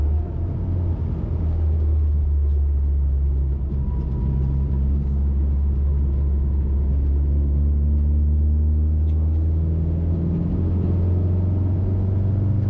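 Classic Mini fitted with a wideband air-fuel gauge accelerating on the road, a steady engine drone with rising harmonics as revs climb, continuous and close inside the cabin.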